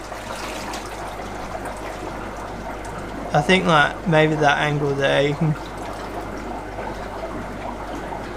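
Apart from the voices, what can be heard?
strong water flow from a pipe into a pond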